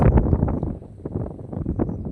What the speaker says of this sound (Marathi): खूप खूप म्हणजे खूप वारा आहे.